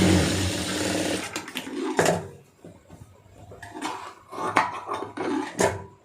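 A sewing machine runs in bursts while a blouse is stitched, with short clattering handling noises, brief pauses and a dense rattling whir close by; no one speaks.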